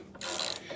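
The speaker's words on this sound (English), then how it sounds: "put your wrench back on it and snug it up" A wrench snugs up a fitting on a Toro snowblower, giving a short, close burst of ratcheting clicks about half a second long with no talking.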